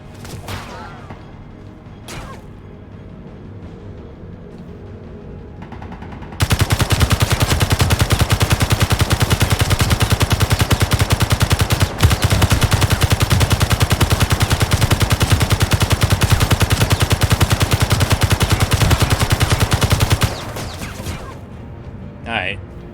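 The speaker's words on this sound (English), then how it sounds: "There's 3 of them, I think, shooting at me now." Sustained automatic gunfire in the Space Engineers video game, several shooters firing loud and continuous for about fourteen seconds, then stopping abruptly.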